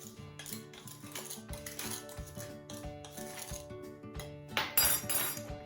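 A spoon stirs sugar and cinnamon in a bowl, giving a steady run of close scraping and clinking strokes against the bowl, with a brighter, louder burst of clatter near the end and no talk.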